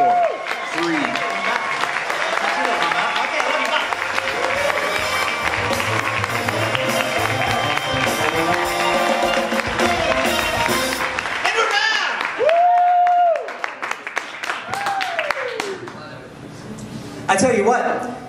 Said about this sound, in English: All right, people, cue applause.